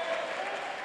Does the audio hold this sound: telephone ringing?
no